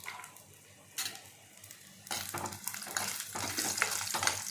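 Broad bean pieces tipped into hot oil in a pan: a couple of soft clatters, then a steady, hissing sizzle that builds and carries on at moderate volume, with no voices.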